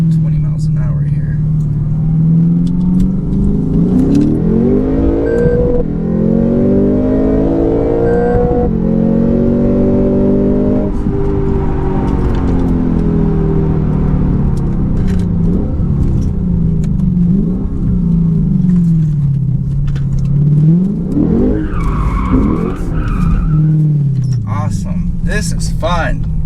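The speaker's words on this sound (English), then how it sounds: "a quick first gear pull here from rolling first gear" Rear-wheel-drive car pulling hard in first gear from a rolling start of about 20 mph, its engine note climbing loudly through repeated revs inside the cabin while someone talks over it.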